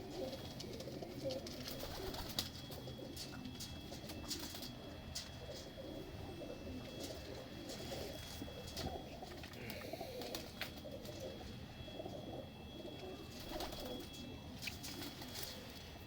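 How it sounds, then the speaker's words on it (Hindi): Pigeons coo steadily in a low, murmuring chorus, with occasional wing flutters and faint chirps mixed into a continuous background. "बड़ा शानदार कबूतर है।"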